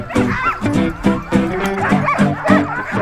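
Excited husky sled dogs at a kennel in Spitsbergen, Norway, bark and yip eagerly before a sled run, a close, loud chorus of overlapping barks with some whimpering.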